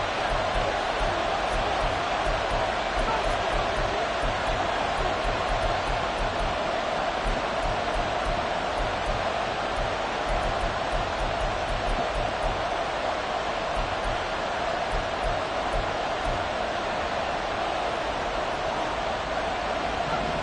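Steady, dense roar of a stadium crowd in a football video game, loud and continuous throughout with no voices breaking through.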